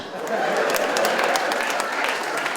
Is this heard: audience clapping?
yes